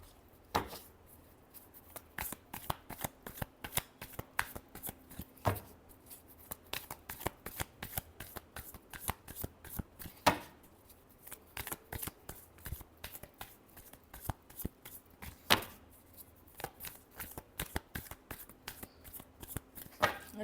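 Tarot cards are shuffled by hand up close, a long run of quick, crisp riffling clicks and flicks in uneven bursts with brief pauses, quiet overall with no talk.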